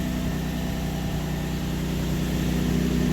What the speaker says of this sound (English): let it warm up a little bit, then I give you guys some exhaust notes